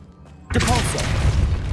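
Revelio reveal spell going off in Hogwarts Legacy: after a quiet start, a sudden loud whooshing shimmer with a deep boom and ringing tones that sustains to the end.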